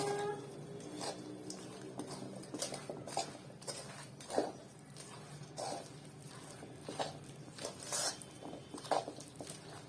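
Gund pak ingredients, hot sugar syrup, grated coconut and dry fruits, are stirred together in a pan, giving soft, irregular scraping and clinking strokes at close range, fairly quiet and steady.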